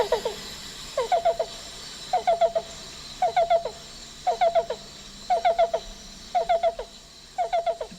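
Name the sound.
recorded call of the black-billed cuckoo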